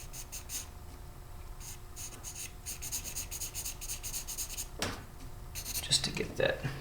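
Pencil strokes scratch across paper in quick repeated bursts while drawing around the edge of a shape, close and fairly soft, with a few short pauses and a sharper scrape near the end.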